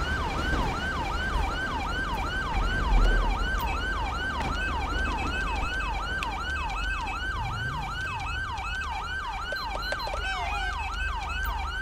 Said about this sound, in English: Why is that siren stuck on?